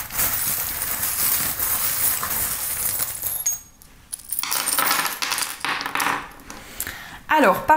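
Small metal divination charms rattle and clink as they are cast and dropped onto a surface, a busy jingling spread through most of the stretch with a brief quiet gap midway and a final louder clatter.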